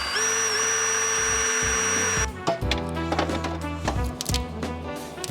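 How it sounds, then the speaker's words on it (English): A power drill bores out spot welds on a steel bracket of a Patrol during a turbo upgrade, first with a steady high motor whine, then shifting to irregular grinding and clattering bursts as the bit bites into metal. "I'm gonna drill these spot welds out so this bracket's out of the way"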